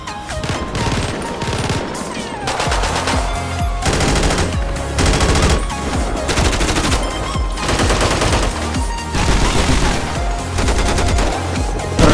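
Rapid gunfire from GTA 5 with the Redux mod's realistic gun sounds, loud, dense bursts of shots repeating almost without pause across the whole stretch.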